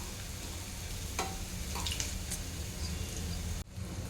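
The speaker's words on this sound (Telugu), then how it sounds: "మిగిలినవి కూడా ఇలాగే డీప్ ఫ్రై చేసేసుకోవాలి" Sweet corn samosas deep frying in hot oil give a steady, close broadband crackle and sizzle, continuous throughout with a brief dip near the end and no speech.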